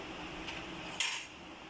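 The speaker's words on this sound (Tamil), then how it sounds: "சிம்மில் வச்சுட்டு லைட்டாக அரிசி உடையாமல் கிளறி விட்டுட்டு" Spoon gently stirring prawn biryani rice in a pot over a low flame, a soft continuous scraping with one brighter metallic scrape partway through.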